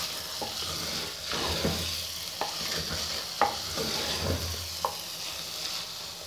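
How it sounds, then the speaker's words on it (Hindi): Moong and masoor dal stirred and roasted in a clay pot over moderate heat: a soft, continuous sizzle broken by scraping strokes of the spoon and a few sharp clinks against the pot. "देखिए मैंने दाल की बहुत अच्छी तरह भुनाई कर ली है।"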